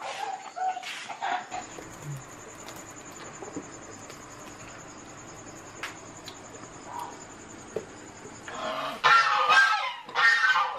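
Geese honking outdoors, with scattered faint calls at first and then a burst of loud, close, harsh honks near the end.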